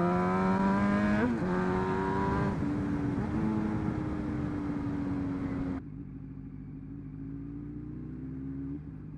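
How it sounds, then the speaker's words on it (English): A Yamaha MT Tracer 900 or CBR 600F2 motorcycle engine holds a loud, close rising drone through the gears, then drops to a lower steady note as the exhaust pops and burbles on a road ride. "My bike is popping like a bitch today."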